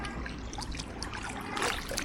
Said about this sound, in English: I'm gonna have to leave them up here to drain for a few minutes.